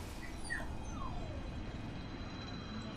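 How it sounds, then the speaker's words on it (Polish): A dog in a video game whimpers with a faint, brief high whine over a steady low background rumble. "O, piesek, co chcesz wyjść gdzieś?"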